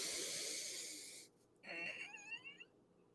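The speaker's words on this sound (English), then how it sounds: "taking a deep breath in" A slow, deep breath drawn in, close and soft, a long airy inhale followed by a breathy release with no talking.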